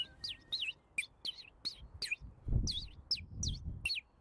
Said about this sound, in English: we are now gonna test this bird whistle and see if we can call in any birds